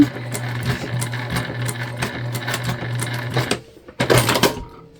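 A sewing machine stitches handles onto placemat gift bags in a fast, loud rhythmic clatter that pauses briefly, then starts again for a short burst.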